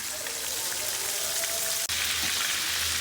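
Loitta fish fries in a pan in Cox's Bazar style, a loud, dense, continuous sizzle like heavy rain with one brief dip, and no talk.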